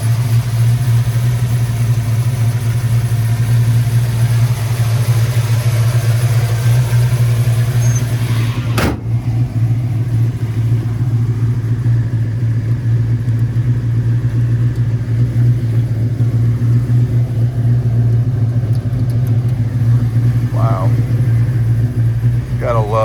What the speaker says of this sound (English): great running and sounding engine.